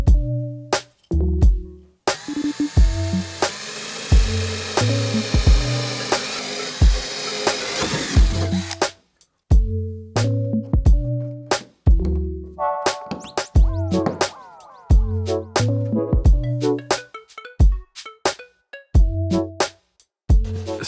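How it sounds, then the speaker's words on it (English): Power drill boring holes into a fiberglass trunk lid during a BMW CSL style trunk repair, with a long continuous whining run and several shorter bursts of drilling in between, loud and close. "So I'm gonna drill the holes for this, make sure it fits properly"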